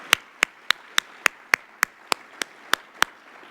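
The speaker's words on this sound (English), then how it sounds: "So a round of applause to that whole team." Sharp, regular single claps, roughly eleven in under four seconds, repeat steadily over a quiet background at a mayor's speech event, like a lone clapper or a small rhythmic group.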